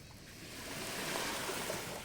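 Sea waves wash onto a shore in Turkey as a soft, continuous rush of surf, swelling slightly and holding steady throughout the short stretch, with no speech.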